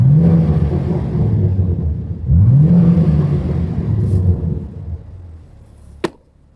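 A BMW G80 M3 with an AWE SwitchPath exhaust revs twice to about 3,000 RPM in rising sweeps, dropping back to a burbling idle between, ending with a sharp pop.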